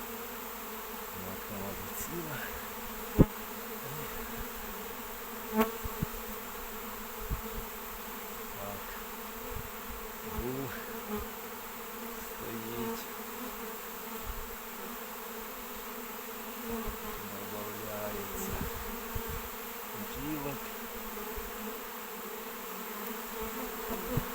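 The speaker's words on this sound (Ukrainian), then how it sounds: "бджілки злітаються і сідаються на горіхи" A honeybee swarm gathers and settles on a walnut tree, a steady dense buzzing of many bees with a few louder passes near the microphone, going on continuously outdoors.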